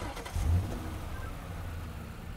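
A car driven in the Roblox game Criminal Tycoon, a brief mid-pitched engine revving up then settling into a steady hum, moderately loud and close, with no talking.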